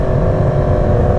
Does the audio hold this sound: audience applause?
no